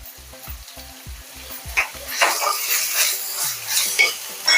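Clam curry with rock salt and turmeric is mixed in a pan, starting with a quick rhythmic series of spatula knocks against the metal, then giving way to a steady close sizzle with scraping stirs.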